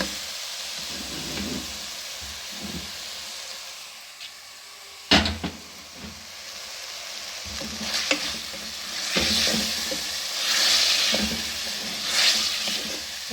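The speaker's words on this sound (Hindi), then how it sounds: "ये हमारी अच्छी तरह मसाला भुन गया है।" Masala with potatoes sizzles and fries in a pan, with soft stirring scrapes, a sharp utensil knock and bursts of hissing, close and fairly quiet.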